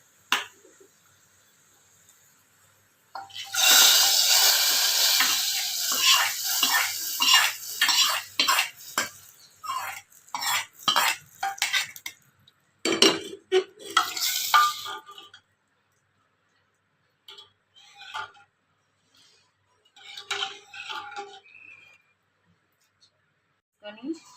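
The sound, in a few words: tempering poured into dal and stirred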